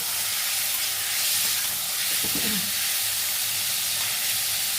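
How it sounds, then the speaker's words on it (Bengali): Thin strips of pumpkin fry uncovered in a pan over a high gas flame, a steady loud hiss and sizzle with a brief burst of stirring scrapes partway through. "কুমড়ো ঢাকবো না এইভাবে নেড়ে চেড়ে ভাজবো"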